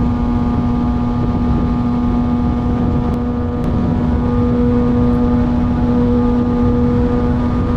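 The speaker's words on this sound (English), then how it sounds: "how much wind just hits me when I'm riding" Steady roaring wind rush while riding a Kawasaki ZX6R motorcycle, loud and constant throughout, with a low engine drone beneath it and no talking.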